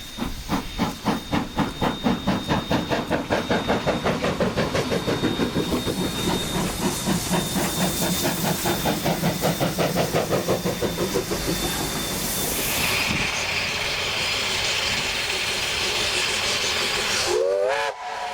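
New Zealand steam locomotive JA 1271 hauls the Double Thunder excursion from Glenbrook to Hamilton, chuffing in a loud steady exhaust beat with hissing steam and a sustained whistle tone, then a long hiss and a brief whistle near the end.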